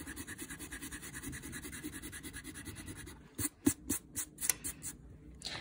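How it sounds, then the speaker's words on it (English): Pencil lines rubbed out of a drawing with an eraser, close and fairly quiet, a steady scratchy rubbing that gives way to a few sharper, brisker strokes near the end. "then I'm simply going to erase the pencil"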